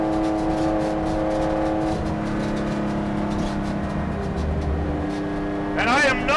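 A 1965 Brumos Porsche 911 engine revs to around 5,000 RPM, holding a loud, buzzy harmonic tone that shifts pitch, then climbs sharply at the end, with a voice shouting over it.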